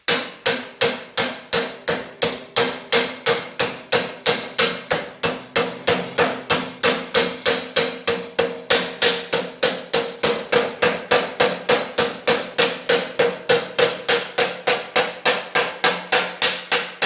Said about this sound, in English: I'll dolly it up a bit with the hammer dolly.